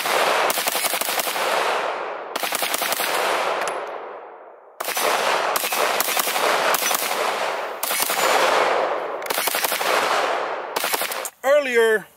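A Kriss Vector Gen2 fires at an outdoor shooting range in several rapid strings of close, loud, cracking shots separated by brief pauses, with the echo trailing off after each burst.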